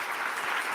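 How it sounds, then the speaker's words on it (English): Audience applauding panel speakers, a brief dense wash of many hands clapping, steady and fairly loud with no pauses. "So if you could please give them a round of applause"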